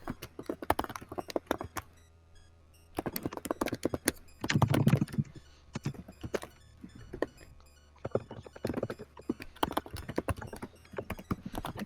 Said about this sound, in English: There's furious typing going on in the background here.